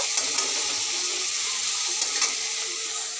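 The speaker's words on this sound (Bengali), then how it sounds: "বেগুন ভাজা চলছে, বেগুন ভাজা খুব সুন্দর করে" Eggplant slices fry in a pan with a steady, close sizzling hiss and a few soft clicks, with no voices.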